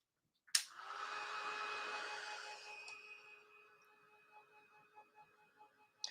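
A hair dryer blows steadily on a mixed media art background, starting with a click and a close, airy whoosh carrying a faint whine that fades and softens before switching off.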